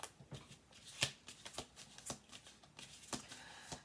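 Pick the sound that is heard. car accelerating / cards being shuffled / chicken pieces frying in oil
cards being shuffled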